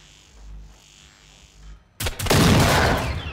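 A gunshot in the video game Generation Zero: after a quiet stretch, a sudden loud blast erupts and rolls into a sustained crackling echo.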